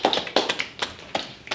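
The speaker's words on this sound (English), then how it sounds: "All right, golf clap." A light golf clap from a small audience: a handful of soft, uneven hand claps, close and sparse, with gaps between them over about a second and a half.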